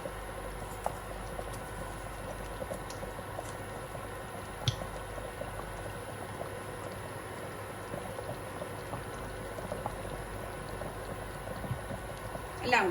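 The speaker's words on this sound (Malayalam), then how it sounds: "ഒരു 3 ടേബിൾ സ്പൂൺ അളവിൽ ക്രീം ഒഴിച്ചു കൊടുക്കാം." Cream poured into a pot of creamy mushroom soup simmering on the stove: a low, steady bubbling and faint liquid sounds continue throughout, with a brief soft clink near the end.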